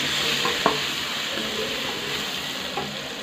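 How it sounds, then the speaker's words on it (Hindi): Ginger paste goes into mutton liver masala frying in a pan, with a continuous sizzle and hiss and a couple of soft stirring clinks from a spoon, heard close and alone. "अभी हम इसमें ऐड करने लगे अदरक।"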